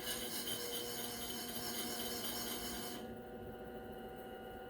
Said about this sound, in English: So this is the finest grit disc I have. And it's going to leave a glassy, smooth, shiny finish.